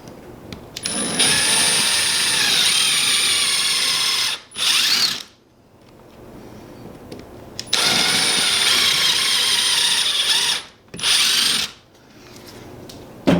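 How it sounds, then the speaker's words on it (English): A power drill drives a hole into a wall for a curtain anchor in two long, loud whirring bursts, each followed by a short extra spurt, with quiet pauses between them. "and then screw the hole for the anchor"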